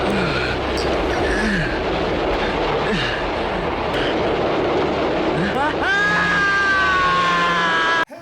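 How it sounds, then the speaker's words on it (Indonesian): A diesel train rumbles past with clattering wheels and rising screeches, a shrill whistle-like squeal building near the end, with voices mixed in. "Tak lama muncul kereta api diesel"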